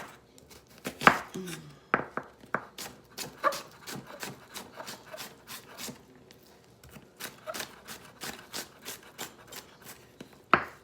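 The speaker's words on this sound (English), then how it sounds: "So I'm going to chop up this onion" A knife chops an onion on a cutting board, a steady run of sharp, close taps with brief pauses between bursts, no talking.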